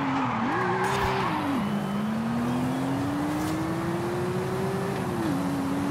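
A car skids and slides in Forza Horizon 5, a loud continuous tire squeal over engine drone whose pitch bends up and down as the slide shifts, close and steady with no talk.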